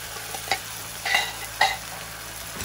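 A beaten mixture poured into a hot pan for miso ankake udon sizzles and fries steadily, with a few louder bursts of spatter and stirring over a constant crackle.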